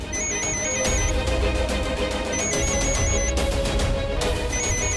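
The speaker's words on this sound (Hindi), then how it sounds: "लीजिए, दामाद जी का ही फोन आ गया।" A phone rings with an incoming call, repeating electronic ringtone bursts in a steady cycle, loud and close, with no voices over it.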